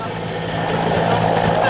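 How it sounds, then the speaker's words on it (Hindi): A rescue helicopter hovers over floodwater, its rotor and engine producing a loud, steady drone with a low hum beneath, rising slightly as it goes on, amid rain and strong wind. "ऊपर हेलीकॉप्टर से रेस्क्यू करने की कोशिश की जा रही है"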